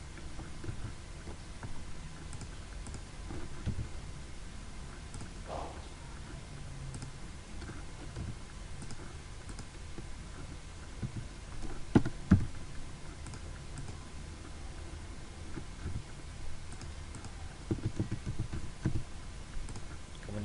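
Soft, irregular typing on a computer keyboard during data entry, quiet clicks scattered over a low room hum, with a few louder taps toward the middle.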